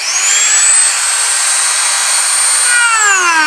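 A Hardell rotary tool whines loudly and steadily as pressure is put on it, holding a high pitch before its speed drops slightly near the end as it bogs down a little; no talking.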